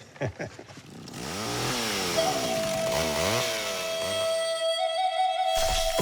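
A chainsaw revs up and runs at a steady high whine for several seconds, loud and close, after a few short sputtering pulls.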